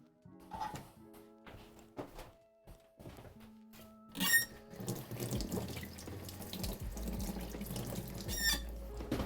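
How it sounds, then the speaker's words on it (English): A kitchen tap runs into a sink as it fills with soapy water, a steady rushing stream rising after a few dish clatters and thunks, close and fairly loud with no talking. "I'm gonna go rinse my hands in the soapy water, but Sam's literally filling it right now"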